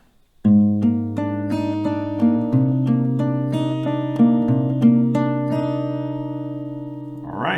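Two chords strummed together on an acoustic guitar, ringing close and full, with a series of picked notes arpeggiated over sustained bass strings for several seconds, no talking.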